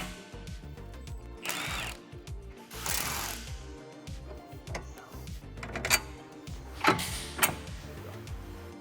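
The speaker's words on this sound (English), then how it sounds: "Using a 21mm socket and end wrench, remove the 2 21mm bolts that retain the lower control arm to the hub assembly and the shock assembly." A power tool with a 21mm socket whirs in several short bursts while bolts are removed from the lower control arm of a 2024 Tesla Model 3 Performance, with ratcheting and metal clicks between the bursts at close range.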